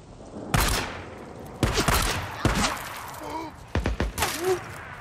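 Gunfire in Days Gone cracks out in several sharp bursts, some single shots and some quick clusters, loud and close, with voices and grunts mixed in between.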